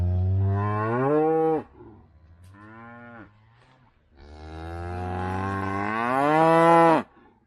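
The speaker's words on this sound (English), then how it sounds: "These guys have been up and mooing at me" Wet, snowy cows on the pampa along the Carretera Austral moo loudly and close by, one long low call, a shorter one, then a drawn-out rising moo, with quiet gaps between.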